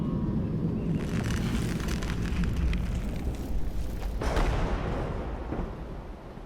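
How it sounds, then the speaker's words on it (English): Designed low thunder effect for a documentary thunderstorm, a deep continuous rumble with a sharper crack about two-thirds through, then a slow fading roll. "Another thunder, even lower."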